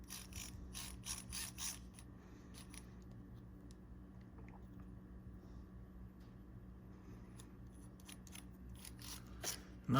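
Faint clicking and ratcheting from small tools tightening a motor down on an SCX24 RC truck, scattered clusters of tiny metallic ticks close by over a low background hum.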